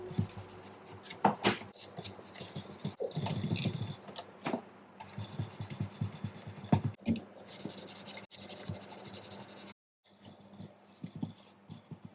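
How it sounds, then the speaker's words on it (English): A toaster being wiped down and its crumb trays cleaned out: close, uneven rubbing and scraping with light scratchy strokes, short taps and a few brief pauses. "I'm just giving the toaster a quick wipe and cleaning out the crumb trays."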